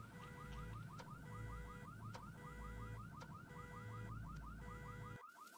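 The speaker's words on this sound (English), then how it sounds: "you're gonna have to turn off the alarm while you're there" A car alarm sounds in a video game, a loud repeating electronic warble that cycles in even bursts for several seconds before cutting off abruptly.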